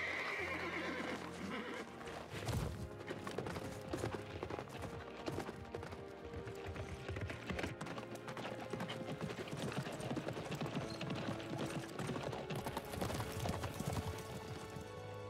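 Horses in the video game Dynasty Warriors 9: Empires neigh and whinny over steady clip-clopping hooves, loud and continuous amid a dense, busy battlefield mix.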